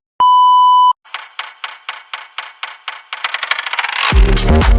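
Synth lead bass for the second drop of an electronic track: a pure steady beep, then a repeating run of plucked synth hits that speed up and build into a dense, loud sustained tone.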